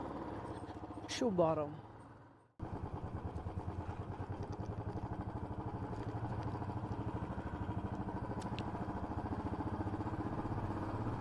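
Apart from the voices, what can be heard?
motorcycle starting and riding off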